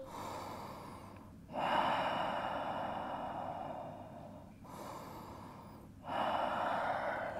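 Slow, deep breathing during a yoga pose, with long audible inhales and exhales rising and falling in a steady rhythm, close and alone.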